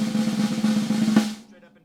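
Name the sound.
snare drum buzz roll, sticks straight up and down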